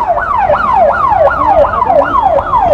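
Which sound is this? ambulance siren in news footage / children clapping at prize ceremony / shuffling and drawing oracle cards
ambulance siren in news footage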